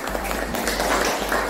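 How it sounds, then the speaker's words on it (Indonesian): A class of children claps together in a classroom during a lesson on the human digestive system, a brief, dense burst of applause that stays loud and even. "beri tepuk tangan anak-anak yang meriah."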